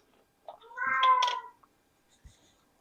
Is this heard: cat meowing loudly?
yes